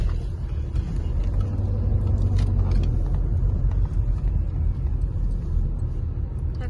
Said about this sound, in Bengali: কাঠ কেটে নিয়ে যাচ্ছে লরিতে।